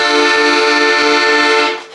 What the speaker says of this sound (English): you'll hear the accordions sound something like this